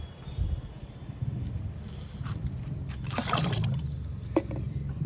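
Liquid fertilizer is poured onto trellised bean plants, producing a brief, close splashing trickle in the middle of the clip over a quiet low background hum.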